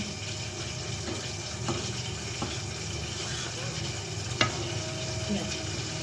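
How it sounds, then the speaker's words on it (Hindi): Buldak carbonara noodles are mixed in a pan over a steady background hiss, with soft scraping and occasional light clinks of a utensil, fairly faint, while someone speaks. "अब हम इसे मिक्स करने वाले हैं मजे मजे से"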